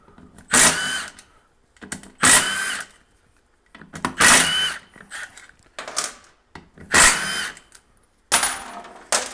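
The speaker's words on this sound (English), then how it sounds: "Go ahead and get all the bolts out of here first" An impact wrench rattles out bolts from a Dodge transfer case in five or six short bursts separated by pauses, loud and close in a workshop, with no talking.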